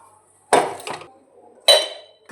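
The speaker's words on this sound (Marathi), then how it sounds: "आता ही इडलीची भांडी मी धुवून घेते." Metal idli pots and pans being washed, with two loud clanking knocks, a lighter clink between them and a brief final clatter, separated by quiet.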